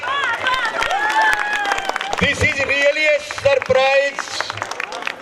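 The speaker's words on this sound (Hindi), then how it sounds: "जोरदार तालियों के साथ" Applause at an ex-servicemen stage program: scattered clapping and crowd noise run under a person talking, with bursts of hand claps between the spoken phrases.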